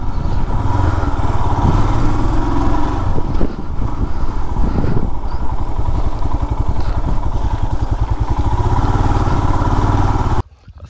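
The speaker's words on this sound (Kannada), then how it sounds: "ಈ ಥರ ಆಫ್ ರೋಡಿಂಗ್ ಜಾಗದಲ್ಲಿ ಮಾತ್ರ ಈ ಗಾಡಿ ಓಡಿಸ್ರೆ ಸಿಗೋ ಮಜಾನೇ ಬೇರೆ" An affordable adventure motorcycle rides off-road, its engine droning loud and close with constant rough rumble and rattling over uneven ground, then cutting off abruptly near the end.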